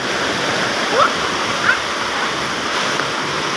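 A strong, flooded river rushes with a loud, steady broadband roar of fast water that holds constant throughout, with a couple of faint brief sounds on top.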